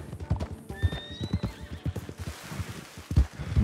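A horse in Red Dead Redemption 2 gives a rising whinny among steady clip-clopping hooves, close and fairly loud, with the hoofbeats carrying on after the neigh.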